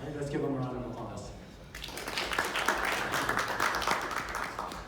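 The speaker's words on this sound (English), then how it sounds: "let's give him a round of applause" Audience applause at a Dev Week 2020 tech talk in Oakland, California, rising after a brief stretch of talk and continuing as a steady, fairly loud wash of clapping to the end.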